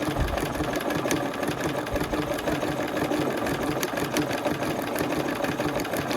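A sewing machine stitches decorative patterns into a fabric Christmas garland piece as the fabric is rotated, its steady, fast mechanical whirr running close and continuous with no pauses.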